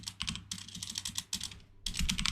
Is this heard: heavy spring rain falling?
no